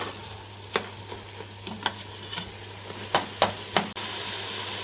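Grated carrots and sugar frying in a pan for carrot halwa, a soft steady sizzle broken by several sharp spoon scrapes and knocks against the pan, with no voices.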